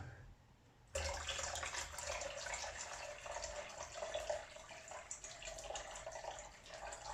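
Water pours in a steady stream into Kodak Flexicolor C41-B bleach solution in a mixing container, starting abruptly after a second of near quiet and running evenly and close at moderate level, with no speech.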